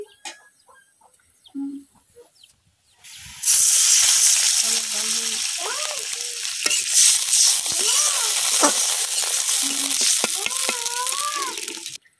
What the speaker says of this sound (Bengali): পেঁয়াজ রসুনটা কিন্তু ভাজা হয়ে গেছে, এখন আমি একটু পানি দিয়ে লইতেছি